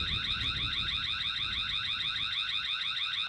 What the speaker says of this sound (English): you can turn on the alarm on the Tapo app, but it will not get triggered until a person goes into the frame